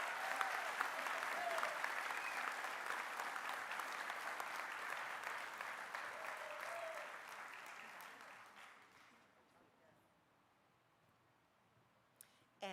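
Steady applause fills a high school senior awards night, a dense wash of clapping from the audience that holds for several seconds, then fades away, leaving near silence with a couple of stray sounds at the end.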